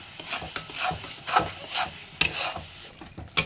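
Masala with a little water is stirred in a cooking pan, a spoon scraping and rasping against the pan in repeated strokes roughly every half second, close and fairly loud over a faint sizzle, with no talking.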